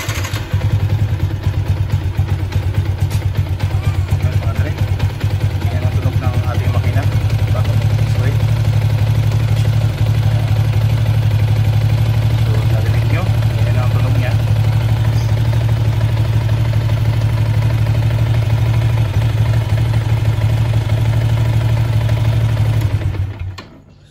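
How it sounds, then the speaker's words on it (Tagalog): A Shell Advance Long Ride 10W-40 Sniper 150 motorcycle engine idles loudly and steadily up close before an oil change, a low continuous thrum with light mechanical clatter, cutting off abruptly at the end. "So pakinggan natin yung tunog ng makina bago tayo mag-change oil"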